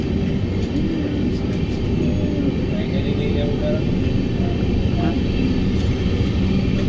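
Steady low rumble and rattling of a train moving out of Gulabganj, heard from on board, continuous throughout with a faint voice now and then beneath the noise.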